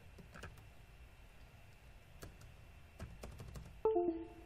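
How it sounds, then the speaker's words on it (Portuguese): Sparse, light taps of typing on a computer keyboard, a few irregular clicks spread apart at close range over quiet room hum, with a short electronic tone near the end. "Quando você digita SIGAS 2000 ali em cima"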